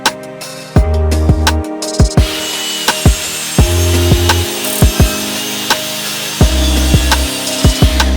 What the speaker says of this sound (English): So we're going to use the miter saw for this.